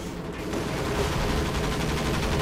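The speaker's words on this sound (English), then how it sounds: "More cannon fire." Sustained cannon and gunfire from a Company of Heroes 2 match, a dense rolling barrage of shots and blasts that fills the scene continuously without pause.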